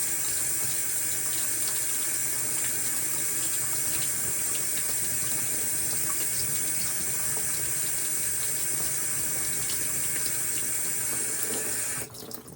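Water runs steadily from a tap close by over a glass jar being rinsed, a continuous rushing splash that holds almost unchanged before dropping off at the very end.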